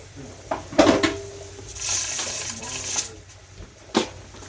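Pan and dishes being washed in a kitchen sink, with sticky residue scrubbed off the pan: close clattering knocks and metallic clinks over running-water hiss.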